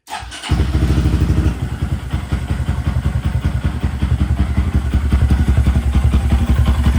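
A 2023 Honda Grom engine with cam upgrades starts and runs with a rapid, thumping putter, loud and close, its pulsing beat steady and slightly rising near the end.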